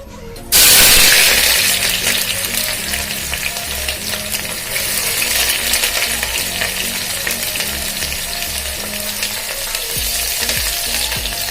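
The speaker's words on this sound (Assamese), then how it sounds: "ৰিফাইন গৰম হোৱাৰ লগে লগে পিঁয়াজখিনি দি দিছোঁ।" Chopped onions hit hot refined oil for a veg pulao with a sudden loud sizzle, settling into steady, close frying with occasional stirring scrapes.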